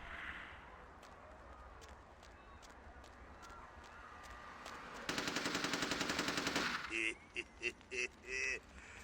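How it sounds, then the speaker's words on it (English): Gunfire in the vampire role-playing game Vampire: The Masquerade – Bloodlines, a rapid burst of automatic shots for about two seconds over a low game ambience, then a few separate louder bursts. "I like how I can hear gunshots"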